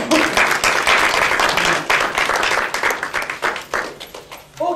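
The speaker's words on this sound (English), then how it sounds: "Give me a round of applause." A live audience applauds a storyteller with loud, dense clapping that swells early and then thins into scattered claps before trailing off, with a few voices mixed in.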